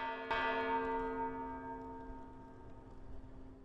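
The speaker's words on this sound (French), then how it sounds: "À minuit, les cloches ont sonné à Kiev en l'honneur des Ukrainiens" A single church bell in Kyiv is struck once at midnight, and its rich, ringing tone decays slowly over several seconds with faint background noise.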